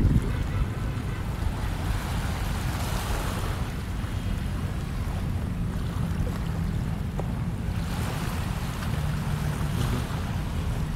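Sea waves at Manila Bay's dolomite beach wash in as a steady, soft surf that swells in a couple of places, with wind noise against the microphone and no one talking.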